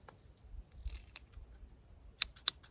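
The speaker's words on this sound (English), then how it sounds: "One-handed scissors." One-handed EDC scissors handled up close: soft fumbling and light taps, then two sharp, bright metallic snips near the end, crisp and isolated against a quiet background.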